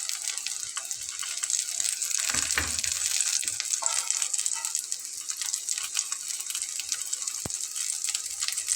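Flour and masoor lentil snacks fry in hot oil with a steady, close sizzle and crackle, broken by a brief bubbling burst and a few soft clinks, then a sharp click near the end.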